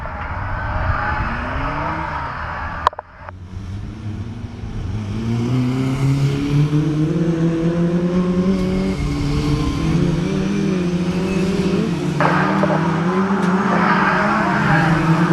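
Race cars at an oval raceway pulling away on a rolling lap, a sharp bang followed by engines rising in pitch as they accelerate together, loud and continuous with a crowd-like wash behind.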